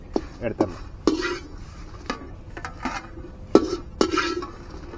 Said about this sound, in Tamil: இப்போ பார்த்தீங்கன்னா இந்த கலகலன்னு ஒரு சவுண்டு வருது பாருங்கள்.